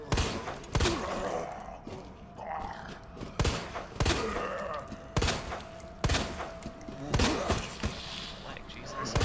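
Gunshots fired at zombies' legs in Resident Evil 2, about seven loud single shots spaced a second or two apart, each with a sharp crack and tail, over game ambience and shuffling sounds.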